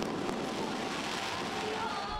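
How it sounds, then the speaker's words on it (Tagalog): Fireworks burst over Jones Bridge in Manila at midnight for the Chinese New Year, the Year of the Wood Dragon, making a steady, dense crackling roar with faint crowd voices mixed in. "Makulay na fireworks ang isinalubong sa Year of the Wood Dragon pagpatak ng hating gabi sa Jones Bridge"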